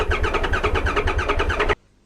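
A Tigerona motorcycle that sat unused for a month runs with a loud, close, chugging engine rhythm for under two seconds, then cuts off abruptly into quiet.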